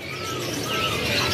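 Canaries at a bird kiosk in Bandung sing in a continuous stream of high, warbling twitters and trills, moderately close and steady throughout, with no voices over them.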